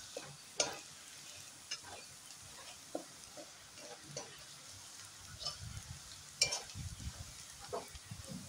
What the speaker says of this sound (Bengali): গার্লিকটা যখন ফ্রাই হয় তখন একটা খুব দারুণ স্মেল ছড়ায়